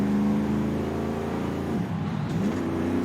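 A truck engine in Forza Horizon 5 drones steadily at a low pitch, shifting slightly as it revs, continuous and fairly loud throughout.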